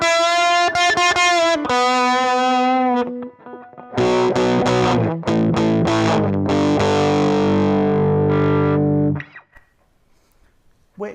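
A guitar played loud through a Dallas Scala tube amp clips into a distorted tone, with a run of picked notes, then thick sustained chords that cut off abruptly into near-silence.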